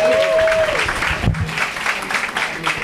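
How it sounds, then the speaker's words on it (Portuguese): A crowd at an LGBTQIA+ public policy seminar claps briefly, loud and close, with voices and cheering mixed into the short burst. "Uma salva de palmas, gente."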